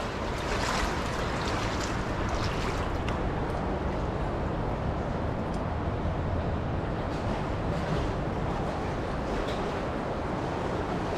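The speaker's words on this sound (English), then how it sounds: "Nice bit of a sewer overflow there again." Water rushing out of a sewer overflow beneath a city, a steady loud broadband roar that holds unbroken and close throughout, with no voices over it.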